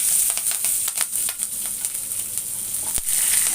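Ginger and green chillies sautéing in a pan for rava kichadi, a bright continuous sizzle with repeated crackles and occasional sharper pops, close and loud.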